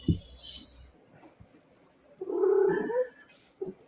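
A house cat gives a short meow, then a louder drawn-out caterwaul, with soft rumbling between, heard close and alone.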